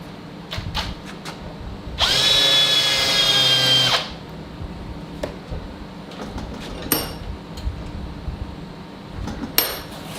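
A drill chamfers a hole while marking knives are being tapped, giving a loud two-second whirring burst with a bright whine, surrounded by quieter clinks and taps of metal tools.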